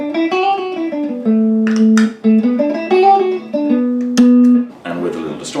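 A dry electric guitar with the Boss CE-2 chorus pedal switched off plays a clean melodic phrase of single sustained notes and slides, loud and close, with brief pick scrapes between notes.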